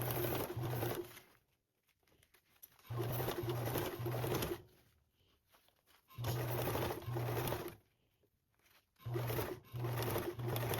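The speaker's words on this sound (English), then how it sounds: "You're gonna sew on your binding with a 1/4" A sewing machine stitches binding onto a convertible duffle bag, running in four close, steady bursts separated by short pauses.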